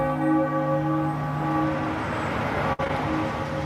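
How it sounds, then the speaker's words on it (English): A church bell tolls with a sustained, ringing hum whose overtones hang steadily throughout, fairly loud with faint traffic-like noise beneath and no voices. "And now the bell tolled for him."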